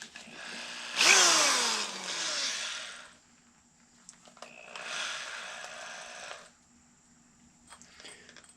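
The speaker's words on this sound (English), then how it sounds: "going to take my drill" A power drill spins a headless finishing nail used as a bit while making a plug for a simple powder horn, with two loud whirring bursts of a few seconds each, the first rising in pitch as it spins up, close to the listener.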